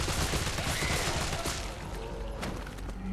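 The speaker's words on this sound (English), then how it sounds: "I'm going to pop a load of shots at them, just so that they don't come up behind me" Shots fired at zombies in Resident Evil 3 Remake come as a rapid string of loud, close gunshots with thudding impacts, thinning into a few scattered reports toward the end.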